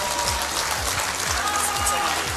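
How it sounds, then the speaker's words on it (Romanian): Studio audience at a televised talent show final in Moldova applauding, with close, loud, continuous clapping and a regular thumping beat underneath. "Aplauze."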